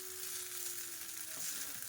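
Cumin rice stirred and tossed in hot oil sizzles softly and steadily, with a brief scrape of the spoon near the end; no talking.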